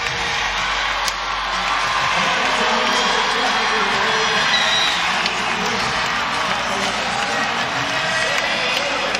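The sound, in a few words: crowd cheering at women's volleyball match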